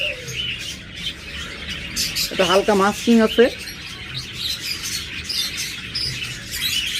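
A pair of lovebirds kept for breeding gives a few short chirping calls nearby over background noise, while a person talks through much of the scene.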